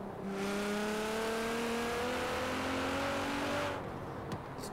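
A Nissan GT-R engine in Forza Horizon 4 revs hard and climbs steadily through the gears with loud, rising tones, then cuts off abruptly near the end, leaving a brief quieter tail.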